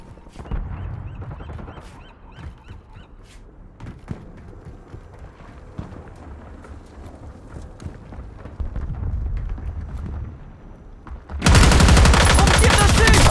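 Gunfire in Call of Duty Black Ops 6 Warzone: scattered sharp shots and short bursts ring out at a distance for several seconds, then give way to a sudden, very loud, dense stretch of close firing.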